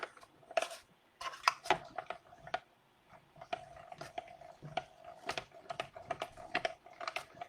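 A mini die-cutting machine runs card stock through, making a series of close, irregular clicks and ratcheting crunches in quick bursts, fairly quiet, with no speech.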